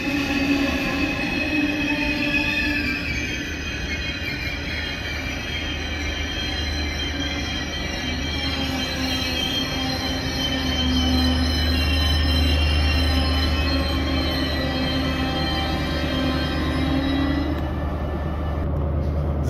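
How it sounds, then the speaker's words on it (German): Regional train pulling into Hamburg Hauptbahnhof, a loud, close, sustained rumble with steady high-pitched wheel squeal and a deep hum throughout, no one talking. "der EE5, der jetzt einfährt, fährt gleich weiter als RE5"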